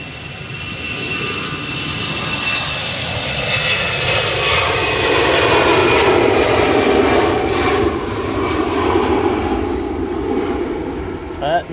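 Airplane engines roar steadily through a takeoff roll at Manchester Airport on a windy day, a loud broadband jet rumble swelling and fading as the aircraft passes some distance away.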